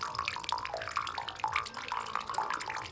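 Water runs steadily through a filtration setup, a continuous close splashing flow with small bubbling and dripping accents throughout.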